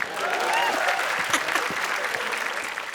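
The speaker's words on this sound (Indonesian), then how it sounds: "Tepuk tangan buat Wendy." Stand-up comedy audience breaking into applause, a dense wash of clapping with a few cheers and voices mixed in, holding steady before easing off.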